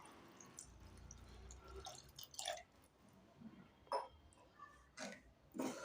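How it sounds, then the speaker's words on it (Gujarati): Half a glass of water poured into a pan of papdi muthiya curry, a Gujarati vegetable dish, giving soft intermittent splashes and drips that are quiet and close, with no talking. "આપણે અત્યારે અડધા ગ્લાસ જેટલું અંદર પાણી નાખશું"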